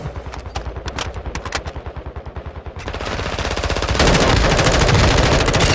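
Rapid automatic gunfire in Warzone 2 rattles in dense bursts, then swells into a louder sustained barrage toward the end, close and heavy with no speech.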